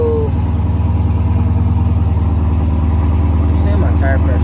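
A car engine rumbles loud and steady at idle before it has been warmed up, a deep even throb close by for the whole stretch, with a little talk over it.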